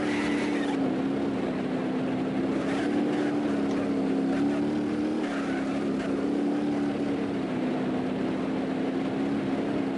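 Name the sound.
car driving in the video game BeamNG.drive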